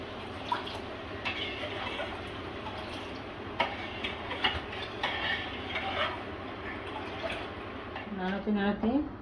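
Two kilos of milk boiling in a pot for khirer payesh, stirred with scattered spoon scrapes and ticks over a continuous bubbling hiss, close by; a voice briefly sounds near the end.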